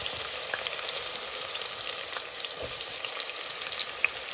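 Onions drop into a hot pan of oil while cooking pasta and fry with a continuous bright crackling sizzle, dotted with small pops, close and steady with no voices.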